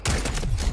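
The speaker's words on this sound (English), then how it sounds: "Wow, I got shot across the corner." A short, loud burst of rapid gunfire in an online shooter video game, several close cracks packed into under a second.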